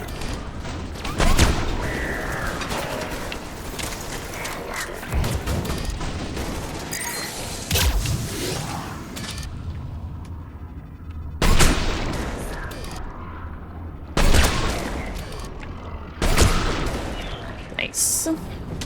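Missile battery firing in Mass Effect 3, heavy booming volleys arriving in several separate loud bursts across the stretch, mixed with battle noise and voices talking between the blasts.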